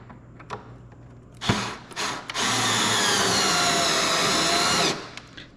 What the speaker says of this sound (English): And then just the 4 screws here. I'll use my little screwdriver here.